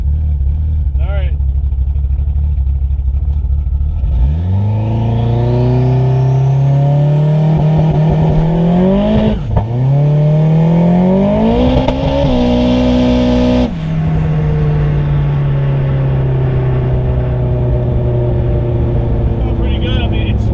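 A car on new Hoosier radial tires launches hard in first gear: the engine revs rise sharply, climb and waver, then the pitch drops suddenly and the car settles into a steadier roar. The sound is loud, close and continuous, with no talking.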